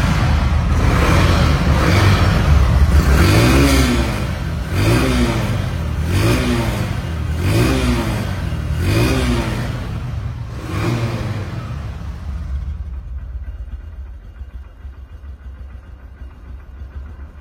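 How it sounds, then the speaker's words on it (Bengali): A Honda Livo motorcycle engine revs loudly in several rhythmic throttle blips, each rising and falling, close by, before settling back toward a low idle near the end. "বাইকটি সাউন্ড কোয়ালিটি শুনুন।"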